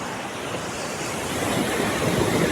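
Ocean waves break on Mae Ramphueng beach in Rayong as a continuous rushing surf, swelling slightly louder toward the end, with wind noise and no voices.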